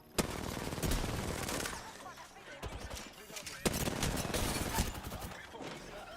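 Dense video game gunfire, with rapid automatic bursts and sharp single shots cracking close and loud almost without a break, while a voice speaks over the shooting.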